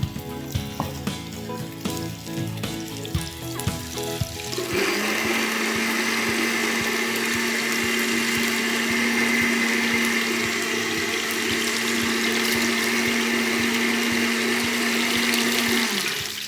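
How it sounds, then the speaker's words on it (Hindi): A kitchen blender whirs at a steady, loud pitch for about eleven seconds, switching on abruptly after a stretch of clattering and sizzling cooking noise and running alone without talk. "ठीक है, मैं ब्लेंड कर दूं?"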